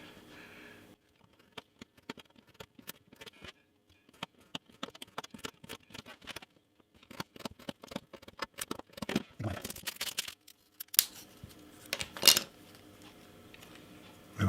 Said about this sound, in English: Going to cut this out with a knife.